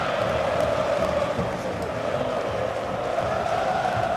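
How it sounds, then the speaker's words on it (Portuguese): Corinthians supporters in a packed football stadium during a 2005 Brazilian league match against Santos, a steady, dense roar of crowd noise and cheering filling the whole stretch without a break. "Torcida corintiana comemorando."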